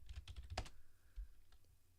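A short burst of rapid clicks from a computer keyboard being typed on, close and fairly faint, with a few quick keystrokes and a pause in a quiet room.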